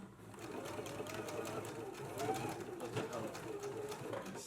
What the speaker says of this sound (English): I'm going to stitch the lower edge closed at a 5/8 of an inch seam allowance